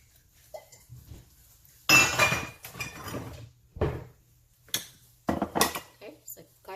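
A metal pan is pulled out and set down in a home kitchen before garlic is fried, with several loud clanks and clinks of pots and utensils spaced across the moment, and a voice speaks briefly.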